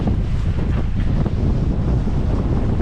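Steady wind roars across the microphone aboard the Sea Pearl sailboat in about 13 knots of breeze between Antigua and Barbuda, with a continuous low rumble and faint wash of water, no voices.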